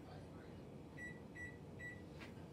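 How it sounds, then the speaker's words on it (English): A kitchen microwave oven runs while softening butter, a low steady hum beneath faint background noise, with a few short high electronic beeps from the oven panel partway through; speech is faintly present. "We're going to stick it in our microwave."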